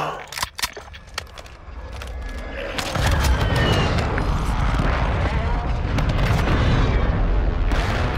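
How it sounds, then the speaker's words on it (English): Friendly airstrike explosions rumble in Call of Duty on Ashika Island, opening with sharp scattered blasts, then settling into a loud, continuous booming roar of heavy impacts that persists to the end. "Friendly airstrike in the AO."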